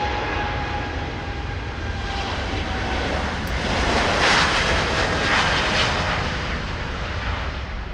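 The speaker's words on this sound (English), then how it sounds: "The United Airlines, Boeing 787 Dreamliner, and that's Amsterdam to San Francisco." A United Airlines Boeing 787 Dreamliner flying from Amsterdam to San Francisco passes at Schiphol, a sustained jet engine roar with a whining tone that builds to a peak midway and eases slightly.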